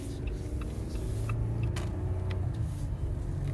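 Steady low road rumble of a car being driven, heard from inside the cabin, with faint intermittent ticks and clicks over the continuous engine and tire drone.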